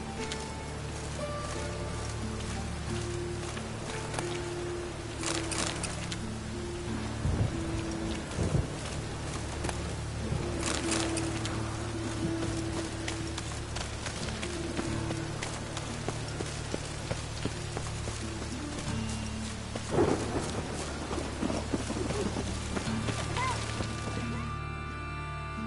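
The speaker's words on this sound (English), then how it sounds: "A storm, damn it." Steady rain pours during a thunderstorm in a video game, a constant hiss with a few heavier crashes and rumbling thumps breaking through, with no voices over it.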